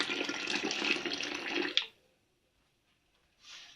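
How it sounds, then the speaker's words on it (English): Dark elderberry juice pours and splashes steadily into prepared hot canning jars for about two seconds, then stops abruptly, leaving near silence before a brief, softer trickle returns. "strain this juice into prepared jars"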